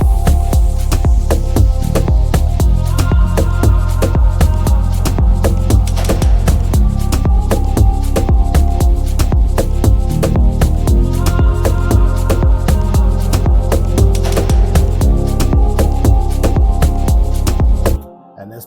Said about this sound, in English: an automation so that the strings could go higher as well from the bottom